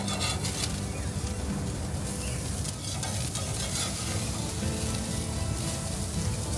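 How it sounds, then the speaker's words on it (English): Ono fish sizzles on a grill with a dense, steady crackle and hiss, close and even for several seconds, with no talk over it. "And I think I can flip this fish."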